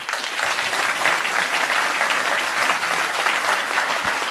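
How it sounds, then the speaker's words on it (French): Sustained applause from an audience at a conference on France in 2050 in Saint-Raphaël, steady and dense, filling the room without a break. "ils méritent nos applaudissements"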